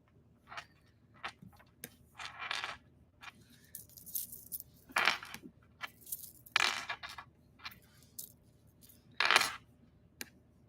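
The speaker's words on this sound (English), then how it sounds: "All of this clickety clacking on this bracelet." Small beads on a bracelet clicking and clacking together in quick irregular bursts, bright and close, with quiet pauses between clusters.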